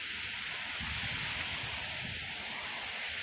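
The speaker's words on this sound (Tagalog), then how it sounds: "Malakas ng tubig." A strong stream of water gushes from a garden hose onto a potted plant, a steady loud broadband hiss and splash without pauses, close by, with no voices.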